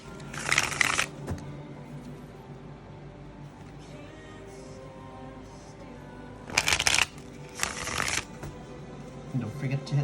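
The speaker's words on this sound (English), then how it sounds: "Let's do 5 shuffles for Taurus" Tarot cards are shuffled in several loud riffling bursts, with quiet pauses between them and faint background sound.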